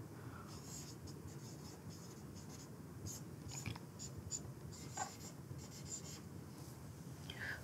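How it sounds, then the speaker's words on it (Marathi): Quiet handwriting with a pen on paper during a physics problem solution, heard as soft scratchy strokes and short taps in an irregular rhythm, close and faint, with no talk. "याला थोडंसं मी असं लिहितो आहे."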